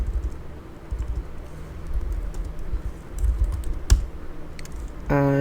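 Keystrokes tapping on a computer keyboard while code is written, a soft irregular patter of clicks over low room noise, with a brief louder clack near the end.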